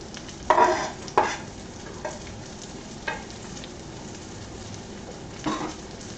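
Chives are stirred into seared kielbasa in a pan, with several distinct scraping strokes over a low steady sizzle, close and unaccompanied by speech.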